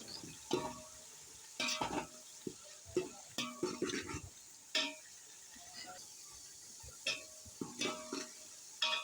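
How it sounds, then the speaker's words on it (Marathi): Tomatoes are being sautéed and stirred in a pan while cooking a mutton dalcha, with recurring scrapes and clinks of the spoon against the pan over a soft frying sizzle, close and moderately loud, with no talking. "आता हे टोमॅटो ऍड केल्याच्या नंतर पण आपल्याला छान असं परतून घ्यायचं ते थोडेसे शिजले पाहिजे टोमॅटो"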